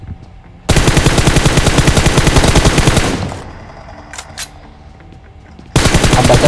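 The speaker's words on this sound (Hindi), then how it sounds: "वो आपस में गोली चलाने लग गए, एक दूसरे से लड़ने लग गए" Rapid automatic gunfire in the video game Close Encounter, loud and close, with a long sustained burst, a brief lull with faint clicks, then another burst starting at the end.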